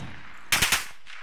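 Three rapid gunshots burst out in quick succession during a Fortnite match. They are sharp and loud after a quiet start, and a faint tail of noise follows.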